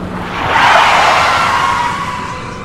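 A car skids to a sudden stop, a loud swelling tire screech that rises quickly, holds, then slowly fades over a couple of seconds, heard alone.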